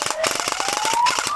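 Rapid automatic gunfire from a video game, with the weapon's sound altered, rattles in a fast continuous burst alongside a rising siren-like tone.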